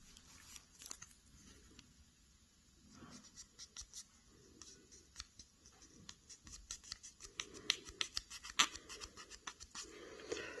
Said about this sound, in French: je vais plier un morceau de papier à poncer, mais du côté non abrasif. Et je vais essayer de l'enlever en frottant à l'intérieur.